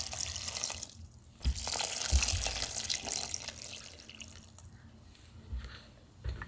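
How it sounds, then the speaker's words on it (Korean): Water pours into a pressure cooker holding pitted jujubes, a steady close splashing rush that pauses briefly and then resumes. "압력밥솥에다가 물"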